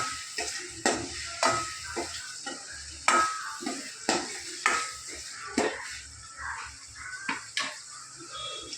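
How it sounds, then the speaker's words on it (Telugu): Turmeric fries in a pan with onions and tomatoes under a soft sizzle, while a spoon scrapes and clinks against the metal in a dozen or so separate strokes. "పసుపు వేసి చూడండి ఇట్లా వేయించుకుంటా కొంచెం"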